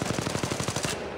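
Rapid automatic gunfire in the mobile battle royale shooter Apex Legends Mobile, a steady burst of about a dozen evenly spaced shots that runs loud and close for most of the second, then cuts off.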